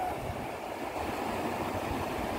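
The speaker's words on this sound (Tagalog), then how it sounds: "Umuputi na yung hampas ng alon." Steady roar of surf churning and crashing close by, with constant wind noise blending into a continuous rushing wash.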